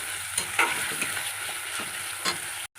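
A spice paste of cumin, coriander, onion and tomato fries and is stirred in a pan, a close steady sizzle broken by scraping spatula strokes, ending with a brief cut to silence.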